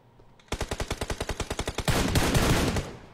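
Rapid, evenly spaced burst of about fifteen gunshots in a video game, loud and close, followed by a denser, noisier blast that fades out; no talk.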